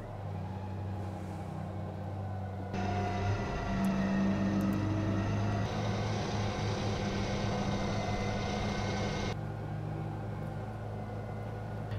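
An electric winch mounted on an ARB bullbar hauls a hanging car, a steady whining motor hum over an idling engine, louder and brighter for several seconds in the middle before easing back.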